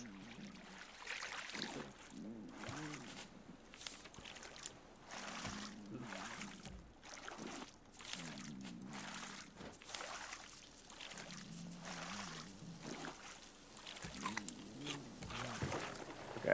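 Paddling a raft through water in the video game Raft: repeated quiet splashing paddle strokes, roughly every two seconds, each a soft swish and pour-like slosh, faint and without talk.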